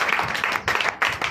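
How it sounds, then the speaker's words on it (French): A church congregation applauds during a Sunday service in Benin, with bursts of clapping that swell, break off briefly twice and resume, close and fairly loud. "Donnez l'acclamation au Seigneur Jésus."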